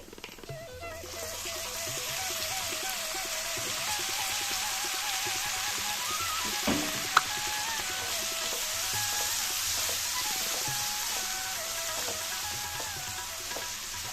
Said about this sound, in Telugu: టమాటోస్ అన్నీ ఆయిల్లో బాగా మగ్గిపోవాలి